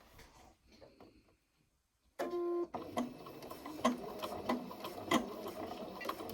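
A home sewing machine stitching washable wipes from fabric, starting after a quiet pause with a steady mechanical whir and regular ticking clicks, close and moderately loud.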